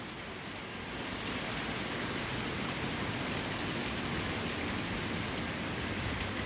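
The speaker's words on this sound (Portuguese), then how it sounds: "Aqui é as últimas gotas do inverno que tá caindo" Light end-of-season rain falls steadily in Guajará-Mirim, Rondônia, a continuous even hiss of drops on surfaces that swells slightly after the first second and holds without pause.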